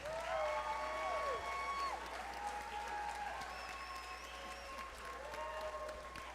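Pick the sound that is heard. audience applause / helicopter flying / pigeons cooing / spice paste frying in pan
audience applause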